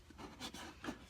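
Glue residue is rubbed off a wooden cigar box with steady rasping strokes, two stronger scrubbing bursts standing out, close and quiet with no talking.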